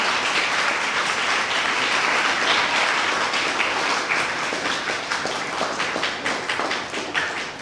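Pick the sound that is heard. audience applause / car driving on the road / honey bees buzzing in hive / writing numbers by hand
audience applause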